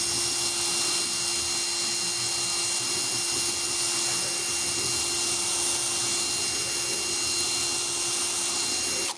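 A saw chain being sharpened with a file, a steady continuous grinding rasp holding close and even for the whole stretch with no talk over it.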